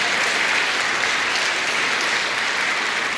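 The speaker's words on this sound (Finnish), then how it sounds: "Antakaa pienet aplodit tässä kohtaa" Concert audience at a Eurovision-song concert giving a round of applause for a performer, with thick, steady clapping that stays loud and unbroken throughout.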